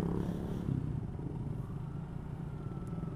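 A motorcycle with a standard stock exhaust rides at night, its engine a steady low rumble with road noise and light clatter throughout, fairly close and constant.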